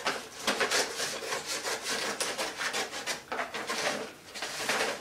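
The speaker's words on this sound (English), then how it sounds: "I'm going to cut up the seam and around the bottom so I get the bottom out." Scissors or a blade work through a plain paper sack being cut along its seam and bottom to cover a textbook, giving close, continuous rasping and rustling strokes in an uneven rhythm.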